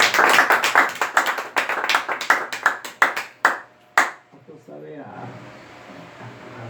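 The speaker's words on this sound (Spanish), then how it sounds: "Denle aplausos al Señor" A church congregation claps in quick rhythmic bursts during a Spanish-language evangelical service, loud and close for about four seconds before the applause stops and a voice talks over room noise.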